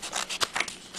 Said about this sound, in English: then I go around with the scissors and cut it like this.